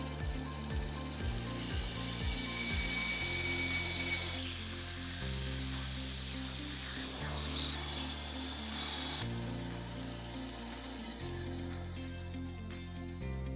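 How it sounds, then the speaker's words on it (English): A bandsaw rough-cuts a metal part in one long, steady run of close grinding and rasping, with a constant motor whine under it and no speech. "Then I just get on the bandsaw and I make a rough cut."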